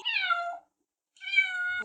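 A kitten gives two clear, high meows separated by a short pause, close and alone without talk.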